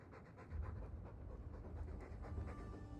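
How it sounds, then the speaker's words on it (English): Fast, steady dog panting from a Dragon Age 2 game scene, a continuous rhythmic huffing breath, fairly close and quiet, heard alone without talk. "All that noisy dog breath, day in, day out."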